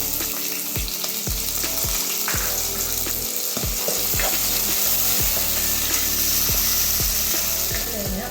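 Snake gourd and lentils stir-fry in a pan over a low flame, a steady close sizzle of frying running throughout, broken by repeated scraping knocks of a spoon stirring through the mix.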